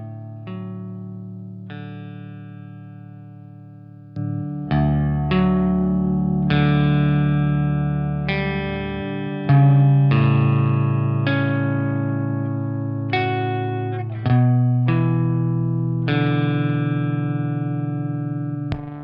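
An electric guitar played through an effects pedal rings out with overdriven, reverberant chords and single notes, each strike decaying slowly, loud and alone with no talk.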